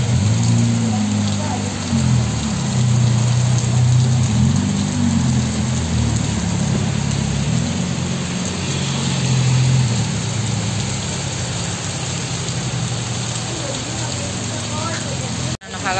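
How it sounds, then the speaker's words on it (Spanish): Heavy rain pours down on a street in Valencia, Carabobo, Venezuela, making a dense, steady hiss that fills the whole stretch. A low engine-like rumble and faint voices sit underneath. "Está lloviendo como fuerte"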